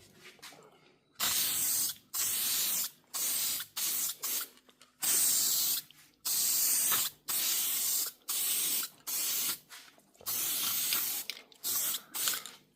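An aerosol can of acrylic lacquer sprays in repeated short bursts of hissing, each lasting about a second, with brief quiet gaps between them.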